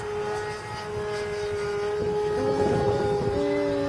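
An engine-powered model airplane with a fixed engine flies at a university drone design competition, its small motor droning steadily at a distance, with pitch wavering as it passes.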